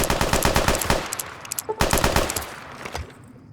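A big gun in Fallout New Vegas fires in loud, rapid automatic bursts, two long strings of shots separated by a brief pause, close and dominant.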